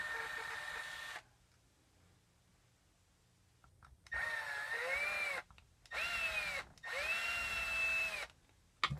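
A power drill backs a screw out of the rear of a Kirby Sentria 2 vacuum. It gives one long whine, then three shorter whirring bursts that rise and fall in pitch, all fairly close with no talk.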